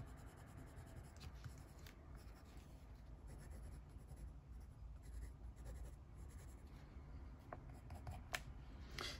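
A white or ivory coloured pencil rubs and smooshes colour into paper with soft, steady scratchy strokes, close and quiet, continuing without pause.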